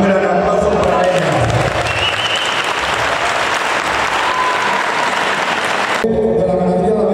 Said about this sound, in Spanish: Un gran aplauso para ella.